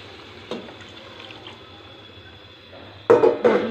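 Boiled chickpea cooking water poured into a pan of cholay, heard as a short splashing burst near the end, preceded by quiet kitchen background and a single faint clink.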